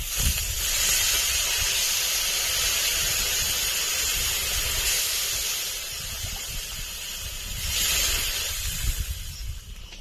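Water poured onto frying potatoes in a hot pan, for a fish and brinjal curry, erupts into a loud, sustained hissing sizzle of steam that eases slightly midway and then surges again, close and without speech.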